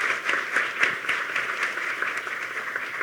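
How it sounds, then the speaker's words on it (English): Steady audience applause fills a room in Chattanooga at a community debate event, dense clapping at moderate volume holding evenly throughout with no voices over it. "Please give him another round of applause."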